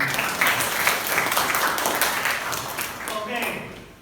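Students in a biology class give a short round of applause, close dense clapping that fades out over a few seconds.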